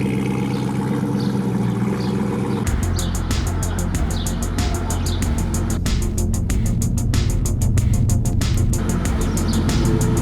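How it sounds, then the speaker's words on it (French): A car driving on a Los Angeles freeway in rush-hour traffic and morning haze. A steady engine rumble and road noise turn into a rhythmic low thumping after a few seconds. "Elle fait un bruit génial cette bagnole"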